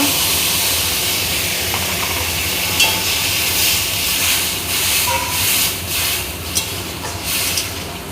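Water poured into a hot gas-stove pan of vegetable curry made with taro and eggplant, ginger-cumin and green chilli paste, giving a steady sizzling, steaming hiss with faint stirring clinks throughout, close and fairly loud.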